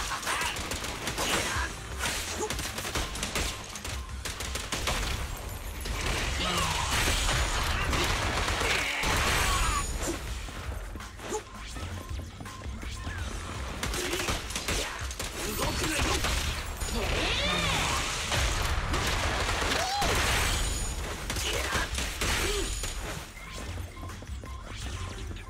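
Gunfire and crashing impacts fill combat in the video game Zenless Zone Zero, as rapid bursts of shots and smashes overlap continuously with background game sound and a voice talking at times.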